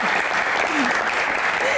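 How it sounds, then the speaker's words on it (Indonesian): Audience applause at a forum on the Constitutional Court, a steady dense wash of clapping throughout with a voice speaking over it. "Tepuk tangan luar biasa."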